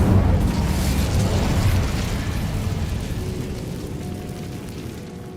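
An Incendio fire spell erupts in Hogwarts Legacy, a loud booming burst of flame that rolls on and slowly fades over several seconds with no talk.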